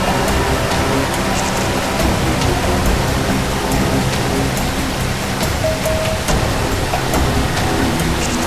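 A waterfall roars as a dense, continuous rushing wash of noise, loud and steady throughout with no pauses.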